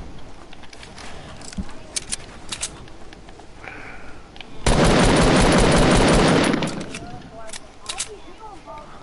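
Bursts of video game gunfire, scattered shots, then a dense sustained volley of automatic fire for about two seconds before trailing off, with voices talking around it.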